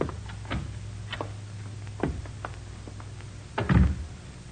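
Door effects in a 1947 Nick Carter radio drama: a series of sharp ticks and knocks, then a louder clunk near the end as a door is worked open and shut, close and alone with no voices.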